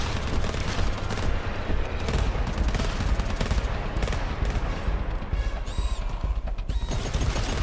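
Turret gunfire in the video game GTFO: two automated turrets firing relentlessly, with loud, dense, continuous bursts and crashing impacts that never let up.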